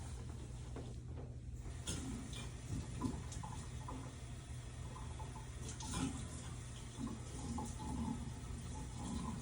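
Water runs steadily from a tap to wet a posterior splint filled with casting material, a continuous splashing flow with occasional faint handling clatter.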